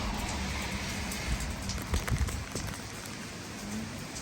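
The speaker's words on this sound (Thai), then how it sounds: "ทั้งลมทั้งฝนตอนนี้" Heavy rain pours steadily onto a house roof in Auckland amid wind, a constant dense hiss with a few louder splashes and thumps around the middle.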